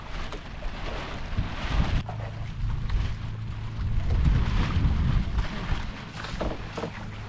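Steady wind roaring across an open microphone, with low rumbling gusts rising and falling throughout, out on a fishing boat at sea.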